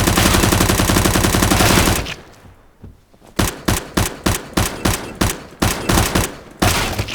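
SMG gunfire in CS:GO: a dense, loud stream of rapid shots, a short pause, then a run of evenly spaced bursts in close succession, with no talking.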